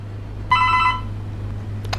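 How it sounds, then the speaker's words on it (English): A single electronic chime-like ring, bright and tonal, lasting about half a second over a steady low hum, followed by faint clicks. "I don't know what the doorbell's ringing for."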